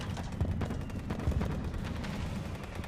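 Rapid gunfire and artillery explosions pound an enemy factory in the tank game Total Tank Simulator, playing as Germany; dense, overlapping blasts and shots fill the whole stretch without pause.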